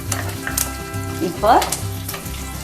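Dal and curry leaves fry in hot oil, a steady close sizzle with a brief louder crackling burst midway, while a voice speaks briefly over it.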